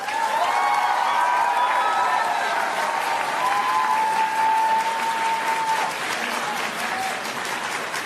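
Sustained audience applause fills a town hall on a proposed Philadelphia 76ers arena in honour of Councilmember Jeffrey Young, a steady dense clapping crowd with a voice speaking over it and fading slightly near the end.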